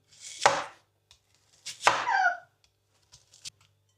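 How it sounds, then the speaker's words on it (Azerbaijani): A knife cuts an onion into rings on a board: two pronounced crunchy strokes with a brief scraping tail, then a few soft light taps, close and in a quiet kitchen during buğlama preparation. "Soğanı halqa-halqa doğrayıram."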